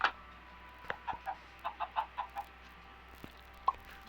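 Chickens in the Minecraft video game cluck in a short, faint series of soft, separate calls with small plopping sounds between them.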